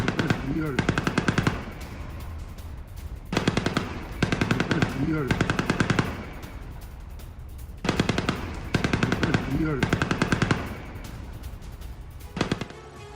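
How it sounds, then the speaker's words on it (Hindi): Rattling automatic gunfire on a highway between Rostov and Voronezh in Russia comes in several rapid bursts of a few seconds each, separated by short pauses, fairly loud and sharp against a quieter background. "ये देखिए गोलियों की तड़तड़ाहट की आवाज सुनिए।"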